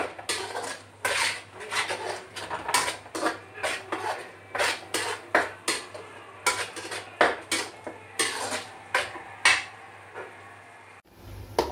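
Onion masala for cauliflower kurma is stirred in a metal pan, a spatula clanking and scraping in a steady, repeated rhythm of sharp close knocks.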